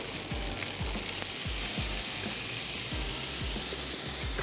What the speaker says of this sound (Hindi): चलिए अब ये जो सब्जियां हैं ये इसमें ऐड कर देते हैं।